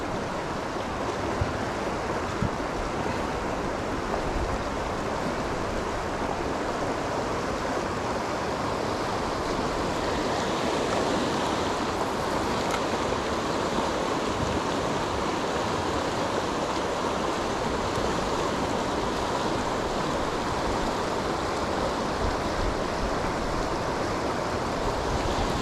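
Fast-flowing river water runs where perch are fished with ultra-light spinner lures, a steady, close, full-bodied rush that holds an even level throughout with no voices.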